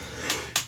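A person sneezes twice in quick succession, two short sharp bursts, close and fairly loud.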